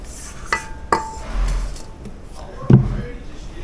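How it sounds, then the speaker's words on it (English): Food being moved into another bowl in a home kitchen, with several sharp clinks and knocks of utensils against dishes spaced across a few seconds, fairly close. "I'm just transferring these to a different bowl"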